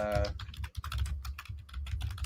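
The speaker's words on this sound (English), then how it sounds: "Typing up a storm over there, ain't you?" Rapid typing on a computer keyboard during a live drawing stream, with a dense run of close clicking keystrokes that continues without pause and no voices.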